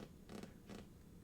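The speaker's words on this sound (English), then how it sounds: "that's the chair creaking when I lean forward and lean back" An office chair creaks twice as someone leans forward and back, two short, faint, close groans against a quiet room background.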